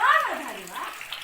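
Running water splashes over hands being washed at home before a Hanuman puja, close and continuous, while a voice speaks over it.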